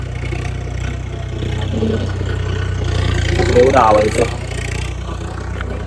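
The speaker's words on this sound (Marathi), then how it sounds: "मागे ट्रॅक्टर चालू आहे." A tractor engine runs in the background while it churns a muddy paddy field for rice planting, a low, steady hum under a nearby voice talking.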